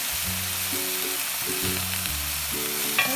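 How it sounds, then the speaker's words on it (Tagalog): Fresh jackfruit sizzling hard in a pan for ginataang langka with crabs, a loud continuous frying hiss that runs the whole time, with light stirring near the end. "Then, pour natin ang ating langka. Fresh langka."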